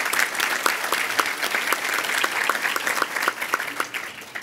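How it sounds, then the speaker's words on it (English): Audience at the 2015 ATHENA Award evening bursts into a sustained round of applause, dense overlapping clapping close and steady throughout with faint crowd murmur beneath. "Can we please give them one final round of applause for making tonight such a phenomenal one?"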